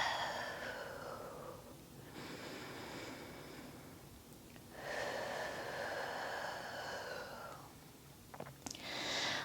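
Slow, deep breaths during a yoga flow, three long airy inhale-exhale swells close to the microphone with brief pauses between them and no talking.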